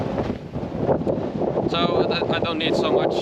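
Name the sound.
strong wind on a Maui hike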